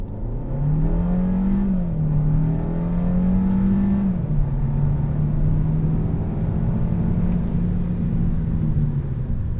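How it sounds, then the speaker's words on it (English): A 2023 Kia K5 GT-Line sedan in sport mode accelerates hard from inside the cabin, its engine note climbing steadily, dipping briefly at a gear change, then pulling on as a loud, continuous rumble with no talking. "Just put it in sport. Turn the AC off and punch it."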